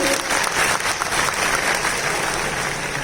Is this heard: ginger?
no